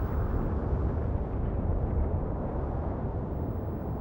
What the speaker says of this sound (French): La pression parfois trop forte dans le cœur du volcan expulse violemment le magma et les gaz.